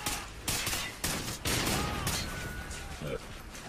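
Rapid gunfire in a Call of Duty Ghosts match, loud repeated shots cracking in quick succession with close impacts over a few seconds, while players talk over it.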